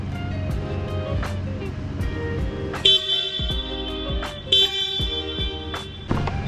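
Stock car horn of a Suzuki Jimny, giving a few short, thin honks over steady engine and street rumble, close and moderately loud.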